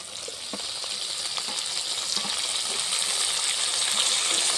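Chopped tomatoes frying in drumstick and egg curry masala in a village-style kitchen, a steady broadband sizzle that grows slightly louder, close up, with faint stirring clicks and a few small knocks, no talking.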